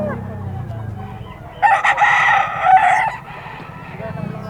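A Kelso gamefowl rooster at a bird market in Bocaue lets out one loud, close crow lasting over a second, with faint voices and background murmur before and after.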